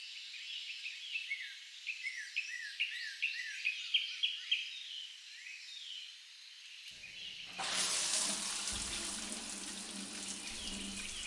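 A water tap starts running at a sink for hand washing, a steady loud splashing gush that begins partway through after birdsong and insect calls in the background.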